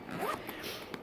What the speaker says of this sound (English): I found that if I had too much in here, then it was just kind of bulged out a little bit and was hard to zip